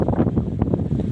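Strong wind of Cyclone Remal buffeting the microphone beside a rail line near Krishnamohan station, a loud, dense roaring rush with no talking.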